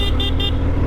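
The horn on a 2020 Harley-Davidson Fat Bob 107 motorcycle gives three quick, loud beeps over the deep, steady rumble of its running engine.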